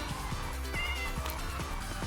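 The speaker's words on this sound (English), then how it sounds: "I went and tamed that cat because why the hell not?" A cat in modded Minecraft meows repeatedly in short, evenly paced game-sound calls, fairly faint beneath a steady dense background of game music and noise, with no talking.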